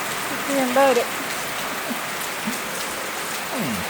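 Steady rain falls on a surface throughout, a continuous soft hiss with brief faint voices rising over it now and then.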